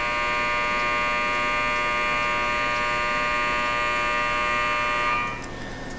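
A loud, continuous electric factory break buzzer drones steadily for several seconds before abruptly dropping off near the end.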